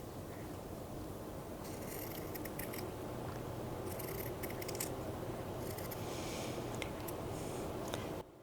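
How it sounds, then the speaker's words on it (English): Scissors snip through wool fabric in short bursts of crisp crunching cuts, close and clear over a steady background hiss. "I'm just going to take the pair of scissors and cut a petal shape."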